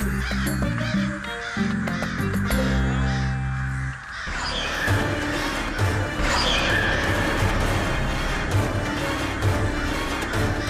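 Crows caw loudly in a royal courtyard while raiding drying papads, harsh repeated calls over a busy music-laden scene with crashing hits, and no voices.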